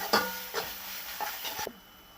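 Chicken masala sautéed in oil in a pan, with a steady low sizzle and a few scraping stirs of a spatula up close, no talk.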